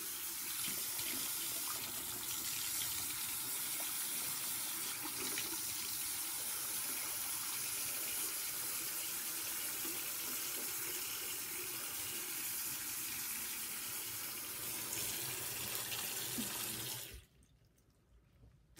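A tap runs steadily as hands are washed under it, a continuous close splashing hiss of water that carries on unbroken and then cuts off abruptly near the end, leaving near silence.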